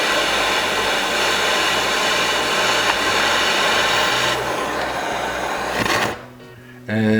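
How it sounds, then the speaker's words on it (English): Steady, loud roaring hiss of a torch flame heating a dop for gem cutting, running continuously with a low hum beneath, then dropping away briefly near the end before resuming. "So I'll get a flame going"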